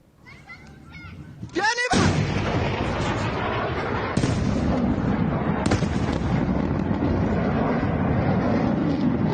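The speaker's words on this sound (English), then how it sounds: "You can also hear booms as a result of the exchange of fire." Booms from an exchange of fire ring out after a brief high whistling, with one sharp blast then another standing out against a continuous rumbling, crackling background, and faint voices early on.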